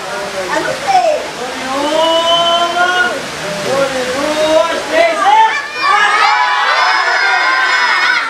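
A large group of children at a Christmas event shouts and cheers together, a loud, sustained, excited roar of many young voices with rising and falling pitches throughout.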